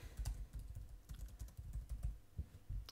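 Text typed on a computer keyboard in a quick, irregular run of soft key clicks and taps, close and quiet, with no voices.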